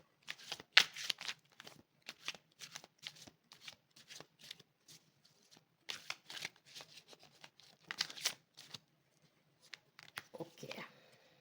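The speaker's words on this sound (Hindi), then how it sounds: "एक और कार्ड लेंगे हम इसमें से।" Oracle cards being shuffled and drawn from a deck, a series of close, crisp riffling bursts and papery slides in irregular clusters, with quiet gaps between them.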